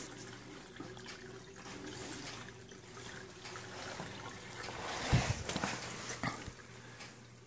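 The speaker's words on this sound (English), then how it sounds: "You can actually get used to hearing the noises of when the siphon stops and when it starts." Water from an aquaponics system siphon trickles and gurgles steadily as it drains and refills, with a louder surge of gushing midway before settling back into a continuous close dribble.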